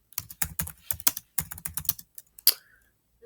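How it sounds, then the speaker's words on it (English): Rapid keystrokes on a computer keyboard while an essay is being typed, coming in close, uneven bursts of crisp clicks with short pauses between runs. "now you have to endure my bad typing here"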